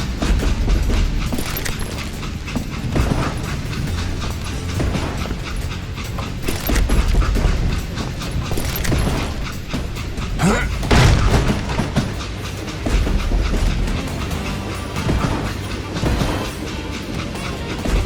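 A train rumbles and clatters along the tracks in Call of Juarez: Gunslinger, a loud, busy rolling din with metallic clanks and jolts, mixed with game action and voices.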